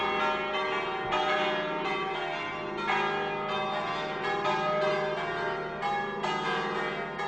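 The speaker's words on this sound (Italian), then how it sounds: "accompagnati dal suono delle campane" Church bells ring steadily, overlapping metallic strikes sounding every second or so, rich and resonant, with no voices.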